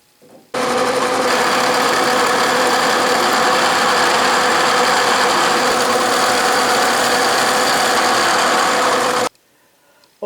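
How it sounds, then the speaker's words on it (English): A milling machine cuts steel blocks down to size, a loud, steady grinding whir that starts abruptly, holds evenly for about nine seconds, then cuts off. "But now I need to mill that down so it's exactly 1¼ inch."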